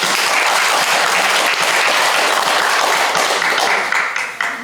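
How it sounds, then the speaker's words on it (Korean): A crowd at a National Assembly press club seminar breaks into loud, dense applause that holds steady and tapers slightly near the end. "자, 박수로 끝냅니다."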